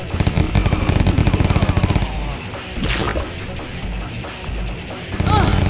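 Gunfire in the video game Terminator Dawn of Fate: a loud, rapid burst of automatic shots for about two seconds, then whooshes, crashes and impacts, with another heavy burst at the end.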